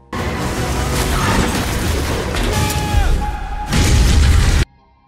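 A loud, roaring blast as a car explodes above a river, with crashing debris, followed by a rumbling second burst before it cuts abruptly to silence.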